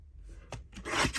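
Paper being trimmed for a Christmas journal tag, with a few soft rasping scissor snips building to a louder cut near the end, close and quiet, no talking.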